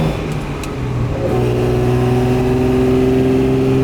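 A restored 1963 Maserati 3500 GT Sebring Series 1 engine revs up close, climbing sharply after a moment into a loud, sustained roar with a rich harmonic snarl.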